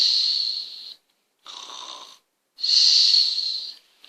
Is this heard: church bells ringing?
no